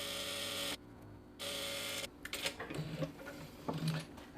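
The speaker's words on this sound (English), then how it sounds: "And we're just going to sew it down." A Vevor M2 sewing machine stitches a seam at a 3/8 inch allowance, running in steady mechanical bursts with short pauses between, close and moderately loud with no talking.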